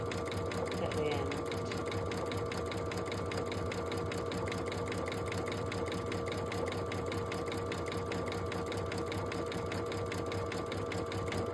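A sewing machine stitches an embroidered apron design, its needle running in a fast, steady, even rhythm with a constant motor hum throughout.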